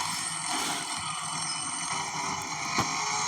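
A BMW motorbike engine in a bike video game hums steadily, a sustained mechanical drone with layered tones and a small blip near the end, with no talking.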